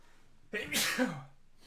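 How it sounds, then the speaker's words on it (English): A single close sneeze from a sniffly streamer: a sharp broadband burst with a short voiced lead-in and a falling tail, set against quiet background music. "And I'm gonna sneeze."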